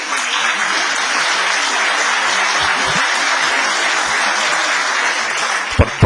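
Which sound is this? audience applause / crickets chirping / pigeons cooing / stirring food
audience applause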